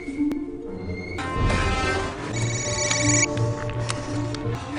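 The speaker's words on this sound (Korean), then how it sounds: "데비언의 협박이 생각난 헌트는 얼른 줄리아에게 전화를 해보지만 이미 한 발 늦은 후였습니다." A telephone rings in a scene from a Mission: Impossible film, with repeated electronic ring tones layered over a tense musical score and background effects.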